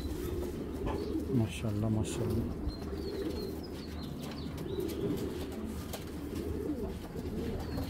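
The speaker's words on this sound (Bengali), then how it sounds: "তো দেখেন কবুতর 2টা" A pair of pigeons cooing close by, low throaty repeated coos in short phrases with a few faint chirps, heard while someone talks over them.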